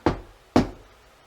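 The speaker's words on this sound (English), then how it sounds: "Could you knock on it just like this?" Two distinct knocks on a hard surface, about half a second apart, close and fairly loud, each with a short fading ring, during a ghost hunt in a quiet room.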